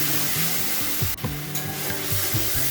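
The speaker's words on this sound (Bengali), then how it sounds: "তারপর মশলাটা ভালো করে কষিয়ে নেব।" A spice paste of ginger, coriander, cumin, garlic and green chilli frying in a pan, a loud steady sizzle with repeated scraping stirs of a spatula, no talking.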